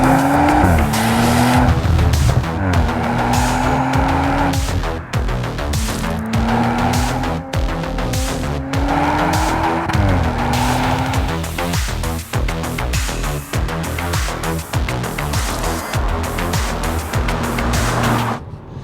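A facelifted Audi RS4 Avant estate with a 2.9-liter, 450-horsepower V6 is driven hard, its engine revving up and down through repeated pulls while tires squeal and skid, loud and close throughout.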